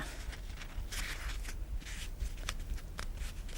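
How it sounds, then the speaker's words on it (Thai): Tissue paper being folded in half by hand for tissue batik, with soft crisp rustles and crinkles in brief bursts, close up and fairly quiet, with no talk. "เราก็จะพับครึ่งอีกครั้งหนึ่งค่ะ"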